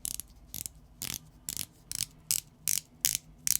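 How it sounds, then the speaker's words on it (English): Close, crisp clicking of a counterfeit Omega Seamaster watch bezel being turned, about eight distinct cheap-sounding ratcheting clicks at a steady, slightly quickening pace, with no voices. "The bezel on the fake is just, it sounds cheap."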